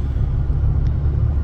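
A car engine hums steadily as the vehicle drives along a tree-lined country road, its low rumble and road noise continuous and fairly loud throughout.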